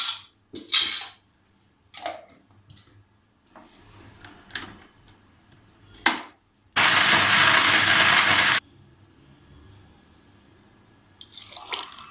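Blender whirring loudly for about two seconds while mixing dates and almonds for a milkshake, preceded and followed by scattered clinks and handling noises in a kitchen.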